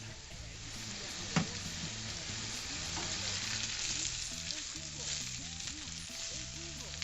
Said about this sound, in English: don't worry about the amount of oil in here. That's just to fry the potatoes in.